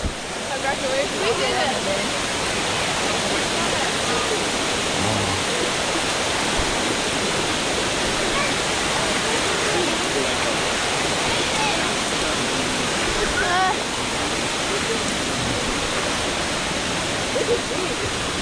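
Dunn's River Falls, a waterfall in Jamaica, pours with a loud, steady rushing roar close by, unbroken from start to finish.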